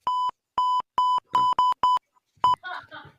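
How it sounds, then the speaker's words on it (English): Series of censor beeps: six short, loud tones in a regular burst, then a brief gap and one more beep, ending with a voice muttering under noise. "I'm Just gonna do a jump bunch off. of beeps."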